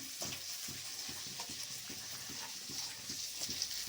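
Crushed green chili and garlic fry in a pan with a steady sizzle, punctuated by soft regular scraping strokes of stirring, close and fairly quiet with no voices.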